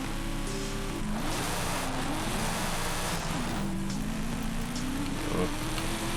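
Engine of a car in Forza Horizon 5 revving and launching off the start line on a jungle hill track, a steady droning roar with rising gear pitches, loud and continuous throughout.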